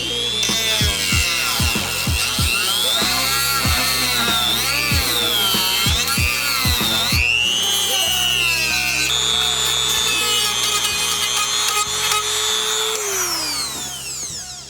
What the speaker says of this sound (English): Right now we're getting extension cords to get the Dremel all the way here, and then we're gonna cut that